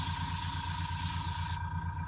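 A paint spray gun hisses steadily and close up as it sprays paint onto ZM tiles, a continuous broadband spray with a faint low hum beneath. The hiss cuts off partway through.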